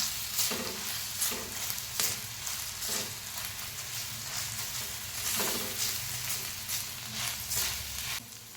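Onion masala frying in a pan for tawa egg masala, with a steady close sizzle broken by repeated scraping stirs of a spoon roughly every second, no talking.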